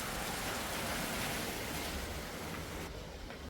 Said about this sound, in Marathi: पाऊस पण एवढं जोरात आले. जुलै महिन्यात चांगली वाट लावले पावसाने.